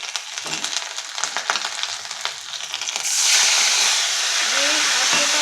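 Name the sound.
ginger and red chilies frying in oil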